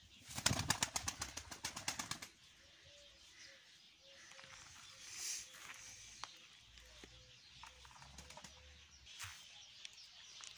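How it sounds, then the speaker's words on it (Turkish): A tumbler pigeon takes flight with a burst of loud rapid wing claps, then quieter flapping and faint bird calls over a soft background. "Kuşumuz da havada. Tek de uçuyor şu anda."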